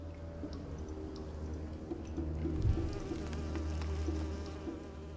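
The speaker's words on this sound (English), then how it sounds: "Wasps." Wasps buzz steadily throughout in the hidden-object game Nightmares from the Deep 3: Davy Jones, a continuous droning hum that swells slightly midway, fairly close and alone with no voices.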